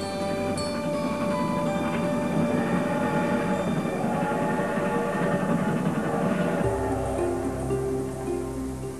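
Orient Express train travelling along the rails, a steady broadband rumble of wheels and carriage noise throughout, with a shift in tone near the end as the train sound changes.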